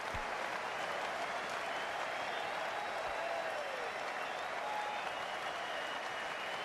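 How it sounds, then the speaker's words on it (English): Crowd at a hot-weather England versus Australia cricket match applauding a big innings, a continuous wash of distant clapping heard faintly throughout with no clear gaps. "Warm applause."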